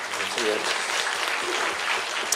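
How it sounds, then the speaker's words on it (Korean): Applause from an audience at a book concert held at a Buddhist temple: a continuous rush of clapping at moderate loudness, with a voice faintly audible beneath it. "여러분 박수 좀 부탁드립니다"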